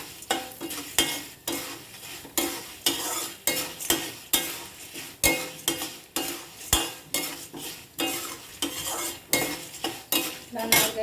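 Red chillies stirred in a pan for a mango coconut chutney, with a spoon scraping rhythmically against the metal about once a second over a light sizzle, close and steady with no talk.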